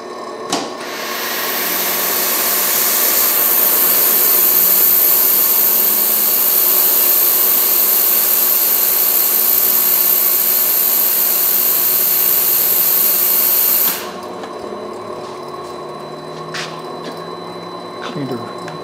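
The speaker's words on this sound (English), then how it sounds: "Turn the motor down a little bit so you can hear the fans." A Hengli HSA1505 belt furnace runs with its fans and an ultrasonic cleaner, producing a loud, steady high-pitched whine and whirring hum that stops abruptly, leaving quieter machine noise and faint clicks.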